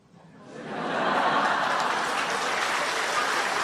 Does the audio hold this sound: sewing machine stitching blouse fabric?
no